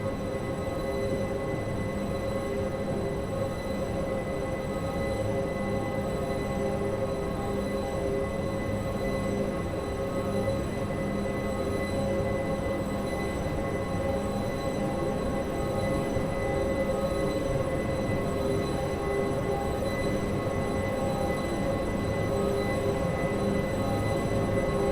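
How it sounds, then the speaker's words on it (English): A train coasting with power off in Train Simulator 2015 on the London Bridge to Victoria route, producing a steady, continuous rumble of wheels on rails with a constant hum throughout. "I've shut off power to let the train coast until the next speed board"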